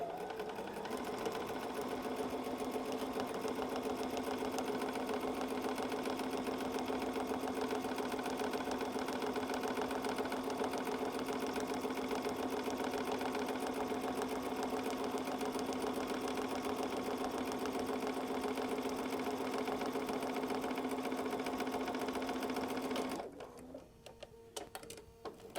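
Sewing machine stitching flannel rag quilt pieces, a steady continuous mechanical whir running nearly unbroken for over twenty seconds, then stopping abruptly near the end.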